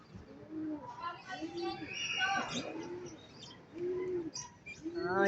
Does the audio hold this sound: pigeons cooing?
yes